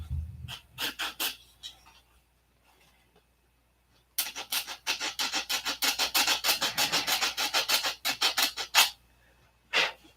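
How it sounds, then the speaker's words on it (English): Wood sanded by hand with 180-grit sandpaper in a woodworking shop: a brief burst of rasping strokes, a pause, then a long run of fast, even back-and-forth scrubbing strokes, close and steady with no voices. "Even sand the tops."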